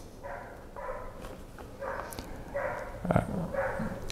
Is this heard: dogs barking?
yes